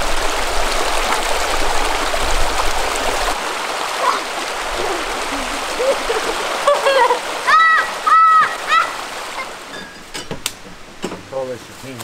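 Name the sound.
small creek flowing near King's Hut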